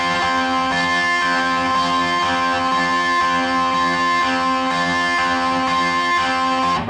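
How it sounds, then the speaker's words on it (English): An electric guitar with heavy distortion sustains two notes in a thick, buzzing, harmonically rich drone, loud and steady for several seconds, with no voice over it. "he puts the distortion on and plays those 2 notes like this"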